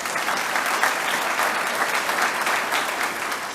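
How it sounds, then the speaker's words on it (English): An audience at a State of the City 2022 address applauds Pete Vander, a steady, dense wash of clapping that holds at an even level throughout with no voices above it. "I'm actually going to ask people to give you a round of applause also"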